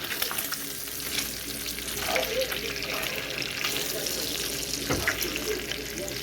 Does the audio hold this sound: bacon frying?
yes